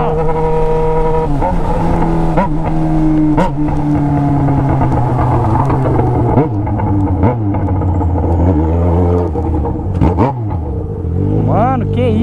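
A new motorcycle stripped down to a bare straight pipe with no muffler roars close by, its loud rumbling exhaust rising and falling through repeated sharp revs and throttle blips over about twelve seconds, with voices now and then.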